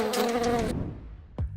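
A housefly buzzes close and loud for under a second, its whine cutting off abruptly, followed by a brief quieter buzz.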